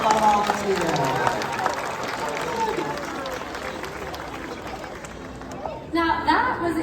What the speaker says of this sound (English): Give a nice round of applause for all of you there